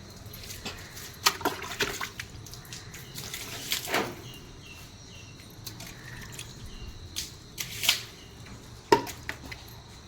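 Water is poured over newly built masonry, splashing and trickling in irregular bursts nearby over a quiet background with faint insect chirping, and no one speaks.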